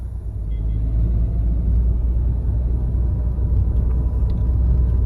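Heavy Sunday traffic on the Chinnar forest road, with vehicles stopped in a line: a loud, constant low rumble of idling car and truck engines close by that swells after the first moment and holds steady.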